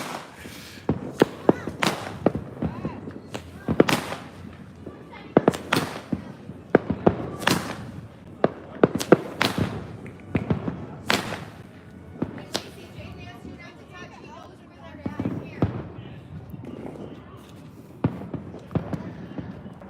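Fireworks and firecrackers burst repeatedly across a residential neighborhood on the Fourth of July, sharp loud cracks and booms in irregular clusters, some near and some farther off, with people talking in between.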